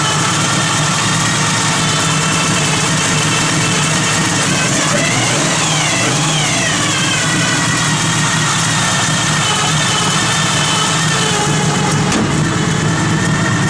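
A 1969 Chevrolet Nova V8 with roller camshaft, stainless steel roller rockers and a Pete Jackson gear drive runs loud and steady, a high whine riding over the idle, with a brief rev in the middle.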